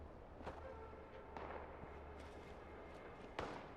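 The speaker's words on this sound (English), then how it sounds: "If you're hearing gunfire, it's a good indication you're not the only one in the region." Distant gunfire in the online game Fallout 76: a few sharp, faint cracks at irregular intervals over a steady low ambient rumble, with no voices.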